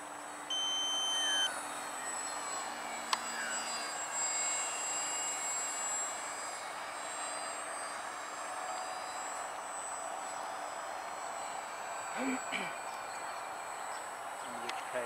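An electric Reaktor model aircraft powered by a battery flies at a model flying field on its maiden outing, its steady high motor whine droning continuously at a moderate distance while people talk nearby.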